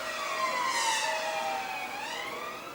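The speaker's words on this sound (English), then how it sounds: "Police and ambulance going past." Police car and ambulance sirens pass outside, steady wailing tones that rise and fall and swell slightly as they go by, moderately distant and continuous, with no talking.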